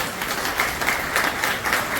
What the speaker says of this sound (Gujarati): જેમને મને આ હોલ જેટલી તાળી પડાય એટલી જોરથી પાડતો